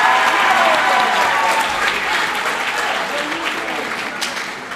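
Audience applause with some cheering at a school band banquet, a dense steady clapping that fills the whole stretch and eases off slightly toward the end.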